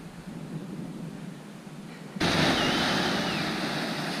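A calm sea on the Jeddah Corniche gives a soft, steady wash of waves and wind, which becomes suddenly louder and brighter halfway through and then holds level.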